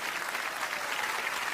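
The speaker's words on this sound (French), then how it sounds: "Applaudissez les enfants." An audience applauds a children's choir at a concert, a dense, steady wash of clapping from many hands, loud and sustained throughout the brief stretch with no voices on top.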